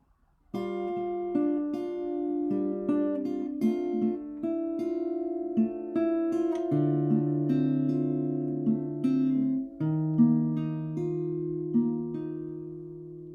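An acoustic guitar strums and picks a slow progression of ringing chords, each held and changing every few seconds, played alone without singing.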